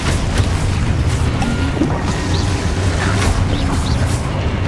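A Confringo fire spell explodes in the Hogwarts Legacy game, a loud, dense rumbling boom that fills the whole moment with sustained roaring energy and no talk.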